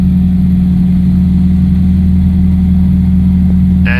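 A Diamond DA20 light aircraft's engine drones steady and loud from inside the cabin during stall training, a constant low hum with no breaks, and a brief higher burst near the end.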